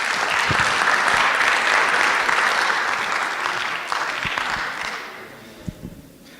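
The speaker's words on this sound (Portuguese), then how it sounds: "Uma salva de palmas para o Kevin!" Audience applause at a design and lettering event, sustained crowd clapping that gradually fades out, leaving a few scattered final claps near the end.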